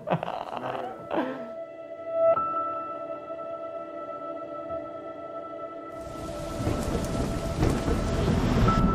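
Heavy rain with thunder: a low electrical hum gives way to a sudden, loud downpour roaring on the surfaces, with deep rumbles underneath.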